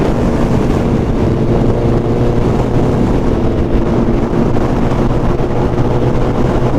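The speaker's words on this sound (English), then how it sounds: "We're driving with 9 Hayabusas and 1 Honda CB1000." A group of Suzuki Hayabusa motorcycles and a Honda CB1000 cruise on a Dubai highway, a loud, steady engine drone buried in constant rushing wind noise.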